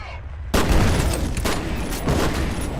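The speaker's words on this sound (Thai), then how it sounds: "ใครยิงปืนโคตรแรงเลยเฮี้ย" Loud burst of gunfire from the F.E.A.R. video game erupts suddenly after a quiet start, followed by sustained crackling shots and booming impacts with repeated bursts.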